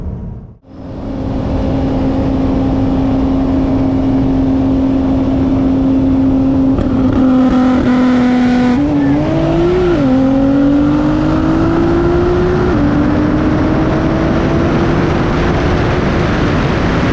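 A tuned Mercedes C63 AMG with big turbos and a hybrid-turbo Nissan GT-R race at high speed, a loud sustained engine drone rising in pitch through gear changes, close and continuous with no voices.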